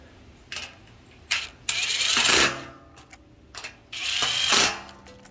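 A hand ratchet tightens bolts on a Husky workbench, with a few close, sharp clicking bursts separated by brief pauses and no talking.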